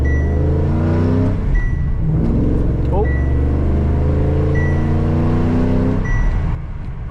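Ford FPV BA GT 290 six-cylinder with a six-speed manual, heard from inside the car with a window down, rumbling steadily and revving throughout under a brief voice.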